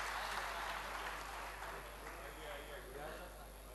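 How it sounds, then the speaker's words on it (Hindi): A crowd claps in a steady, sustained wash at the New College Diamond Jubilee mushaira, a 2013 poetry gathering. The applause stays even throughout and fades slightly toward the end. "आप भरपूर तालियों से उनका इस्तकबाल करें।"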